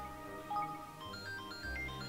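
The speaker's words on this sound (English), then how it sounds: "And that's my phone going off because" A phone ringtone plays during a gaming session, a short series of soft electronic melodic tones sounding fairly faint and unaccompanied by talk.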